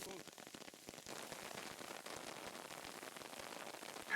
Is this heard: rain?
yes